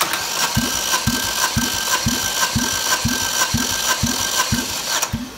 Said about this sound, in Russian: Замер компрессии первый цилиндр.